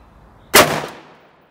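A single sharp AR-15 rifle shot cracks out close by, followed by a short fading echo.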